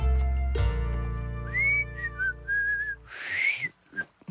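Someone whistles a short, wavering melody with a few sliding notes, clear and close, over a faint low hum at the start.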